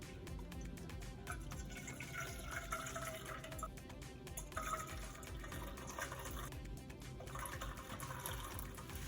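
Fish broth splashes and trickles through a sieve into a pot, a soft, uneven liquid pouring sound, close and quiet, with no talking.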